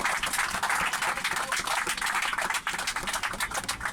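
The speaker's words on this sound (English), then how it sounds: "A big round of applause to Ross," A tour group on a coach applauds their bus driver, a steady wash of many hands clapping that fills the whole stretch, moderately loud, with no talk over it.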